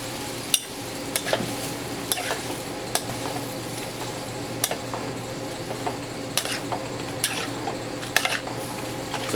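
Seafood stuffing with sherry wine simmers in a pan, giving a steady soft bubbling hiss broken by scattered close clicks and taps of a utensil against the pan, with no talking.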